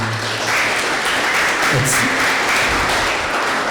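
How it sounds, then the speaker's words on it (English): An audience at a satellite technology lecture gives another round of applause, steady dense clapping with some murmured voices mixed underneath. "Please give me a round of applause again."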